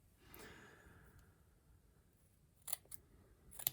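Scissors snip through material in a few quick, close cuts near the end, after a stretch of quiet breathing and faint rustling, with no talk.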